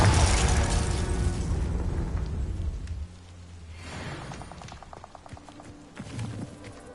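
A Confringo spell explosion in the video game Hogwarts Legacy, a loud, booming blast that rumbles and fades over a few seconds, followed by quieter footsteps and light game effects.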